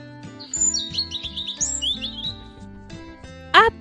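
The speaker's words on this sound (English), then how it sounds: "A bird makes that sound." A bird chirps in a quick run of high twittering notes, then gives one sharp, louder call at the end, with soft music playing underneath.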